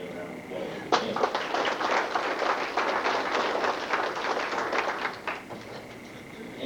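Audience applause for students at a Dustin FFA gathering: a sustained burst of many hands clapping, dense and steady for several seconds before tapering off.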